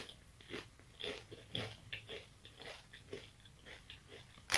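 Doritos chips are eaten close up, with irregular crisp crunches and chewing plus some breathing, ending in a sharp louder crunch.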